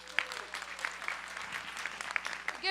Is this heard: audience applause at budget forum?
yes